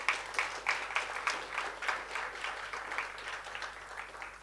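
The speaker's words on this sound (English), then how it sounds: "I think that warrants a good round of applause." Sparse, uneven clapping from a modest audience at a budget discussion event, individual claps distinct and rhythmic rather than a roar, moderately quiet and continuing throughout.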